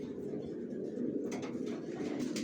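Baby racing pigeons coo softly nearby in a low, continuous murmur, faint against a steady background with no talk.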